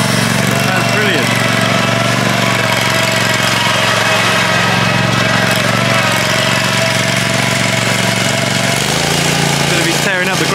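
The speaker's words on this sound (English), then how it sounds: "we've got a couple of people here demoing these new tracked lawn mowers" A tracked lawn mower engine runs steadily and loudly throughout, with a strong low hum and a shift in pitch near the end as it changes load.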